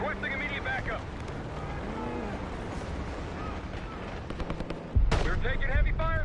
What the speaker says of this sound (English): We've got gunfire to the right. Over those dunes.